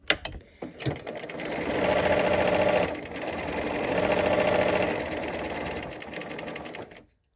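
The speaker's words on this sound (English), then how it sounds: "then we'll just go ahead and sew to this seam" A sewing machine stitches a Y seam in fabric with a loud, close, steady motor whir and needle rattle in two long runs, preceded by a few clicks and handling knocks, then winding down.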